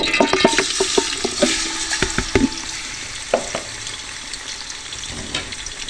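Chicken pieces for a layered chicken biryani hitting hot oil in a pot, a loud burst of sizzling with rapid clatters and spatula knocks up front, settling into a steadier hiss and occasional scrapes, no one speaking.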